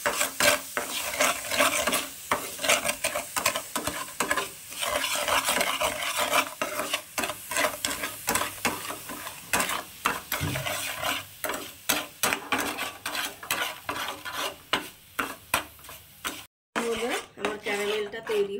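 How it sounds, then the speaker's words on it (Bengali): Sugar and a spoonful of water being stirred in a pan on the gas for an orange caramel cake, with a utensil scraping and clinking against the metal almost continuously over a soft sizzle, close and fairly loud. "এবার চিনিটা আমি ক্যারামেলটা বানিয়ে নেব।"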